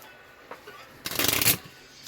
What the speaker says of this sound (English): And then shuffle my deck.